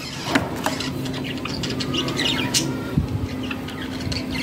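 Pet java sparrows in a cage chirp in short, sharp, scattered calls over a soft background hiss, fairly close and with no talk.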